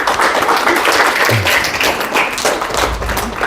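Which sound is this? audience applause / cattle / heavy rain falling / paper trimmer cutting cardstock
audience applause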